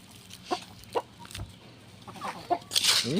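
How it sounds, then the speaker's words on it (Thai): Chickens on a chicken farm give scattered clucks and short squawks, with a louder burst of calls near the end, set against faint farmyard background noise. "เลี้ยงไก่ เลี้ยงไก่"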